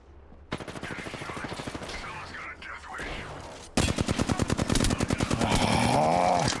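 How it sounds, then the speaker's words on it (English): Gunfire in the Apex Legends battle royale shooter, with bursts of rapid automatic shots in two spells, the second louder and denser, mixed with quiet voice sounds. "Yeah, somebody shooting at me from there."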